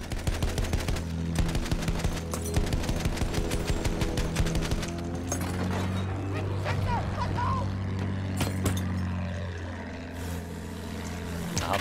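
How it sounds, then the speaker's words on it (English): Gunfire in the Battlefield 1 video game, rapid repeated shots crackling through a dense battle mix with engine rumble and steady low drones, loud and continuous throughout. "Where was that shot from?"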